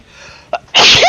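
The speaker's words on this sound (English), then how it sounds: "like I sneezed" A single loud, close sneeze from a person during a gaming session, a sudden harsh burst after a brief sharp intake of breath.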